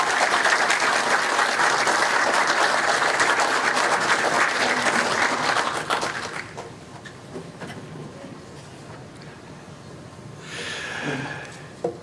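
An audience applauds to welcome Dr. Srđa Trifković before his lecture at a church feast celebration. The clapping is full and sustained for about six seconds, then fades to a quiet room with a brief rustle near the end.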